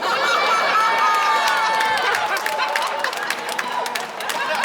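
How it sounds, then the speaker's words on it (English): A comedy-club audience of women claps and cheers, a loud, dense burst of applause that holds steady and begins to thin toward the end, with scattered crowd noise mixed in. "it's only women clapping right now"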